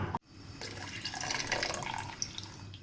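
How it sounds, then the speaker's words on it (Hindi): Water poured from a jug into a pot of mutton paya, a steady close splashing and trickling pour that runs almost unbroken for nearly three seconds after a brief dropout, with no talk. "देखिए एक जग मैंने पानी डाला है"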